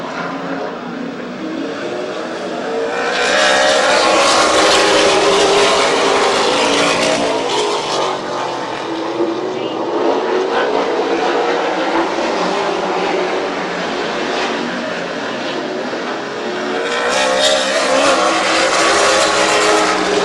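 Race cars roar around Midvale Speedway in a continuous loud wash of engine noise, swelling and fading as the pack passes, with a faint voice beneath.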